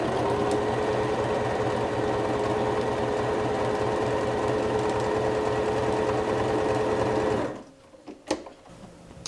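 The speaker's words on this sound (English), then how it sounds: "Let's go over to the sewing machine." A home sewing machine stitches fabric for a cloth face mask, a loud, fast, steady mechanical whirr and rhythmic needle clatter lasting several seconds before stopping abruptly, followed by a few faint clicks.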